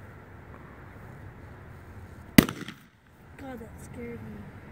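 A single sharp bang from a Roman candle firework fired outdoors on New Year's Eve, loud and close, followed by faint crackles and brief voices afterward.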